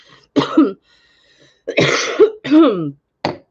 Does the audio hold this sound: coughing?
yes